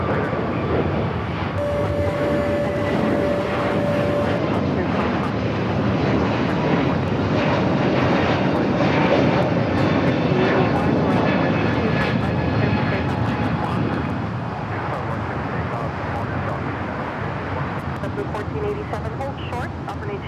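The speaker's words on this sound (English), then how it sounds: "JetBlue A321 touching down here on the south side" A JetBlue Airbus A321 airliner touches down at LAX on the south side, a broad steady jet roar that stays loud and continuous throughout before easing slightly near the end, with talk over it.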